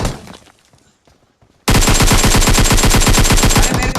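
After a quiet moment, loud rapid automatic gunfire erupts in a video game and continues in a fast, unbroken burst, close and harsh.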